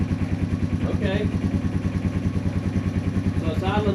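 A Yamaha TW200 motorcycle engine idles nearby with a steady, even thumping pulse that stays level throughout, while someone speaks briefly over it.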